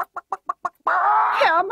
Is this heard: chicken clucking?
yes